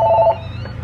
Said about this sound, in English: Do you guys hear that? Is that the phone?